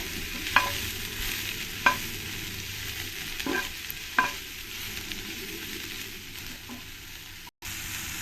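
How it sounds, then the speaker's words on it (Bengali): Soybeans fry crisp in a small amount of oil, a soft constant sizzle punctuated by a few sharp clicks and scrapes as a spatula stirs them in the pan. "সয়াবিনগুলো আমি একটু কড়া কড়া করেই ভেজে নেব অল্প তেলে"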